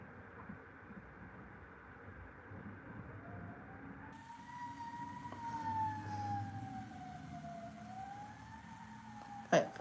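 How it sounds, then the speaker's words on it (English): A fire truck siren wails as it passes at a distance, its pitch rising and falling steadily over a low traffic rumble, with a short loud knock at the end. "fire truck."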